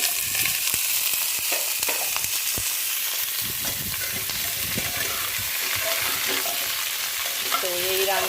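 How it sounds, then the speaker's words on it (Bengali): Vegetable stems with nigella seeds hit hot oil and fry, a loud, continuous close sizzle broken by scraping and clattering as they are stirred in the pan. "কালো জিরেটাও একটু ভালো করে এখন দিয়ে দিচ্ছি ডাঁটা তরকারিটা।"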